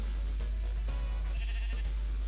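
Sheep in the Minecraft video game bleating in a few quick wavering calls over a constant low hum, close and clear with no talk.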